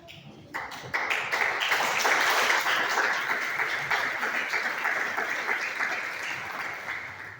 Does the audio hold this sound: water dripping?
no